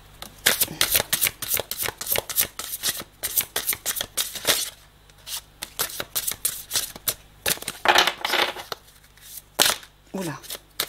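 Tarot cards being shuffled by hand, close up, in repeated crisp riffling bursts with brief pauses between, while a person talks over them.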